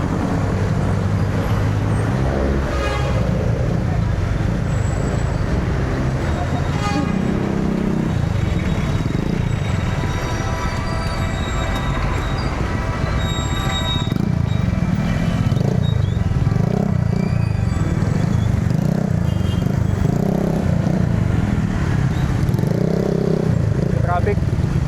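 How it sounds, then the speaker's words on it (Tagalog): Busy road traffic with motorcycles, cars, buses and trucks heard while cycling, a dense continuous roar of engines close by, with a person talking over it throughout. "Traffic."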